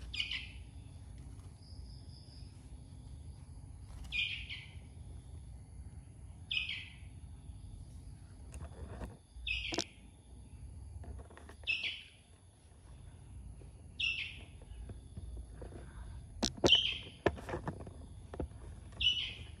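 A young forest bird chick, hand-tame, gives loud, high chirps in a steady series, one every couple of seconds, close by over faint background rustling and handling noise.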